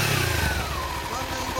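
A 2016 Kawasaki Ninja 250 motorcycle engine revs and rumbles close by, steady and loud, with a voice talking over it.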